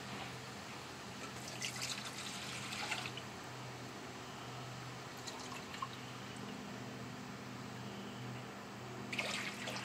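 Water pours and trickles into a measuring cup in a few soft bursts, quiet and close, with dripping between them.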